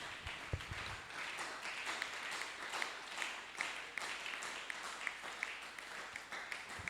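A church congregation claps and applauds together, a dense, steady patter of many hands with rhythmic accents, moderately distant and sustained for the whole stretch.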